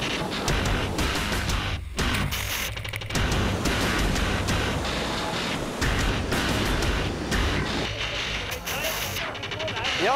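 Water roars through a narrow river rapid in a loud, continuous, broadband rush. Wind buffets the microphone, and indistinct voices sit under the torrent.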